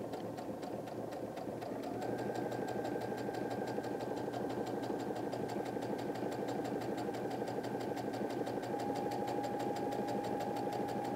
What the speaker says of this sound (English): I'm going to sew it at an angle.